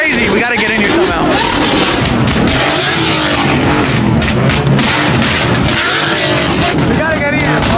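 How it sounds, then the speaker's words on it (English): Car engines revving hard at a car meet, a loud, continuous roar of throttle blips and surging revs close by, with crowd chatter and voices buried in the din throughout. "They are revving it like crazy."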